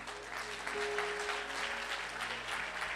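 A church congregation claps together during a sermon, a dense steady wash of applause filling the whole moment with a faint sustained tone beneath it.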